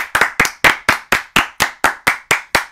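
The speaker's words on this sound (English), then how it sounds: "Round of applause." A single person's hands clap about eleven times in a steady, even rhythm, each clap sharp and close, like a small mock round of applause with no crowd behind it.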